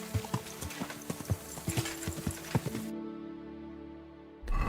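Horse hooves clip-clop in a steady, brisk rhythm on a countryside ride in Kingdom Come Deliverance 2, fairly close and clear with no talk, breaking off near the end into a low rumble.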